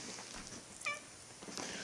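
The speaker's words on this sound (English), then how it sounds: "go away, cat." A house cat gives a single short meow, close and fairly quiet, against a low background hiss.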